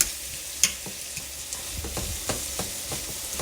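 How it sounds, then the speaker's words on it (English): Tomatoes sizzle and fry in a pan while being stirred, a close, steady hiss broken by soft scraping taps of the utensil. "And then I'll cook the tomatoes until it's cooked."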